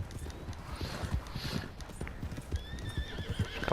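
A wild horse in Red Dead Redemption 2 whinnies over steady clip-clop hoofbeats on the ground, the neighs high and drawn out near the end while the hooves keep a walking rhythm, fairly close and moderately loud.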